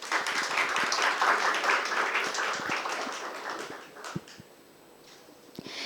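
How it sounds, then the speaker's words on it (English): At a life sciences conference, the audience gives guests a welcoming round of applause that is full at first, thins out after about four seconds, and leaves a few scattered claps. "Please welcome them in a round of applause."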